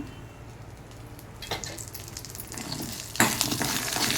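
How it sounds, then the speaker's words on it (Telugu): Hot oil sizzles as dried red chillies, cumin, urad dal and curry leaves are tempered for a sesame chutney. The frying crackle grows steadily louder, with fresh bursts of spattering as ingredients are added, and no talk over it. "పోపు పెడుతున్నానండి ఎండుమిర్చి జీలకర్ర మినప్పప్పు ఇవి ఏగింది కరివేపాకు వేసుకుంటున్నాను"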